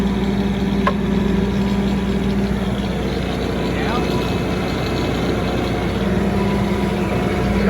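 An engine on heavy equipment runs at a building site for a shop. It makes a loud, constant, close-up rumbling drone with no letup throughout.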